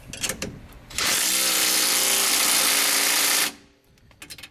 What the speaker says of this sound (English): wrench on that till it's nice and tight